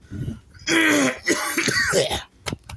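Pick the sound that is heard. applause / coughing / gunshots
coughing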